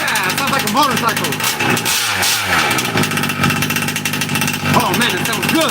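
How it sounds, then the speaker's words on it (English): Loud, harsh engine revving with a motorcycle-like snarl, rising and falling over several seconds, with voices talking and exclaiming over it. "it sounds like a motorcycle"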